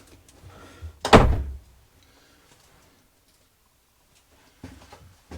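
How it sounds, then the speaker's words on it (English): A single solid thud of a door being shut nearby inside a motorhome, followed by quiet with faint movement afterward. "Shut the door."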